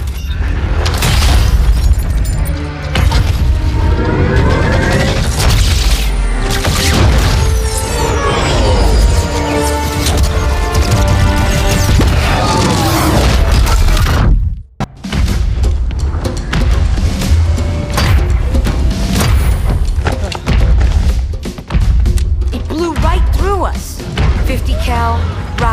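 Rocket explosions in Halo 2 Anniversary: deep booms and heavy thuds hit repeatedly over a dense, loud mix of battle noise, with voices talking throughout and a brief drop to silence partway.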